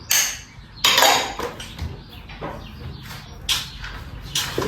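Ground flax seeds tipped into a bowl and stirred for a vegetarian snack, giving close scraping and clinking of a spoon against the bowl in short irregular bursts, no talking.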